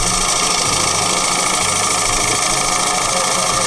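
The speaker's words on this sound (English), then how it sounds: "I'm going to move the cutter in laterally" A lathe cutter, fed in sideways on the face of a turning workpiece, gives a loud continuous motor hum with a steady whine and faint chatter, close up and unbroken throughout.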